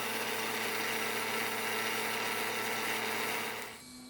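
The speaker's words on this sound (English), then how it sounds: "So next I'm going to drill a hole" A drill runs steadily and loudly, boring a hole in a wooden push stick, with a constant whirring tone that cuts off near the end.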